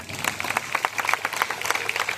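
Applause from a crowd at a temple committee gathering, a dense, steady patter of many hands clapping at moderate volume for about two seconds.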